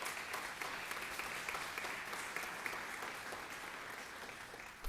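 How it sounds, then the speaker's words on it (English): Audience at a police department service awards ceremony applauds as a corporate security representative comes forward, even steady clapping that carries on for several seconds, moderately distant and slowly easing off. "Give him a round of applause as he comes."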